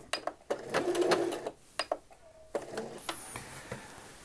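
A sewing machine stay stitches around the neckline of a McCall's 6972 men's shirt, running in several short, fairly close bursts separated by brief pauses.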